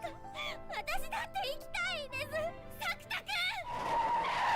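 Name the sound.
truck skidding and hitting someone in an anime trailer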